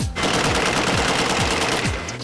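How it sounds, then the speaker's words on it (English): Rapid automatic gunfire rattles in a loud, continuous burst, shots tumbling over one another for about two seconds. "Gunfire!"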